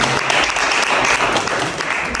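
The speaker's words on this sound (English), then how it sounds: "So I'm going to give you a round of applause again." Loud, sustained applause from an audience at a university education initiative event, many hands clapping continuously without a break.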